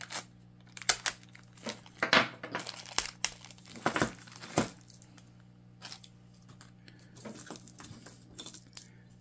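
A plastic package holding an HO scale train kit being cut and pulled open nearby, with crisp crinkling and rustling bursts, loudest early, then scattered smaller rustles and clicks.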